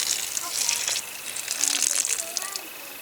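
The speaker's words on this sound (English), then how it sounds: "let me tip out the water and show you what is left in the cup" Water is tipped out of a cup into an automatic water bowl in a chicken and duck pen, giving a brief splashy gush that pours in two short bursts, close by and moderately loud.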